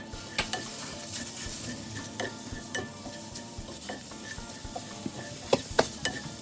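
A sizzling pan of channa masala is stirred as chopped tomato goes in, with a spoon repeatedly clinking and scraping against the metal over a steady fry.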